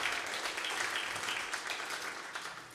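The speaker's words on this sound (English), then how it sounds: "Yes, please put a round of applause." A live jazz audience in New Orleans applauds a big band, a dense wash of clapping that holds steady, then thins and fades toward the end.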